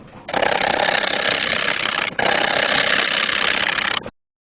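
Loud, steady broadband whirring of a wood lathe spinning an ash bowl at about 250 rpm, with a brief dip partway through before it cuts off abruptly.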